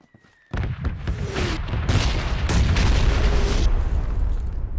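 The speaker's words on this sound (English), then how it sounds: "Grenades coming in." Grenade explosions in PUBG: a sudden loud blast after near silence, followed by rolling booms and bursts that keep the sound dense and heavy for several seconds.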